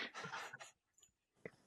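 A dog pants quickly and faintly in a short burst of breathy huffs, followed by a pause and then one more soft huff, with no talking over it.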